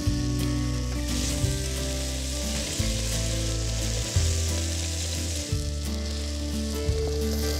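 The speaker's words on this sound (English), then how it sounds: "We're trying to take some prosciutto and see if we can get enough fat out of it to fry some jibs." Turkey testicles, or turkey mountain oysters, frying in fat rendered from prosciutto give a steady, loud, close sizzle that holds for the whole stretch, with faint bursts of spattering and no voices.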